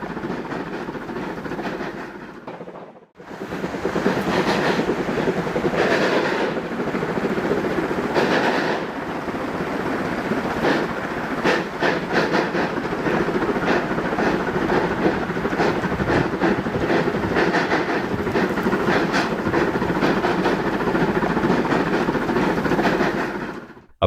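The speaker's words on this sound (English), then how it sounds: "The steam-powered snowplow, originally built in 1913 for Switzerland's scenic Rhaetian Railway, has been fully restored and is once again clearing tracks with remarkable precision." A restored 1913 steam-powered railway snowplow runs along Rhaetian Railway tracks in Switzerland, giving a loud, steady rumble with rhythmic clickety-clack for most of the clip after a brief drop near the start.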